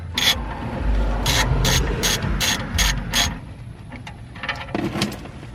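A ratchet wrench loosens the oil drain nut on a Ford F250 7.3L, a run of about seven loud, close clicking pulls, then quieter handling and a faint final rattle.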